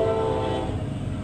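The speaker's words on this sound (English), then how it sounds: "He's got a big train set that he runs in his backyard, and there he goes." A neighbor's big backyard ride-on train set rolls past with a loud, close horn blast that fades as it goes, the rumble of the cars continuing briefly.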